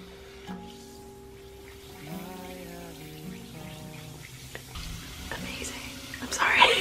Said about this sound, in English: it's a huge bath bomb in there